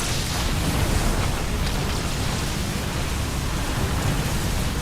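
A dense, steady hiss and crackle from a psionic storm spell in the StarCraft video game, continuous and loud throughout like heavy rain, with no voices.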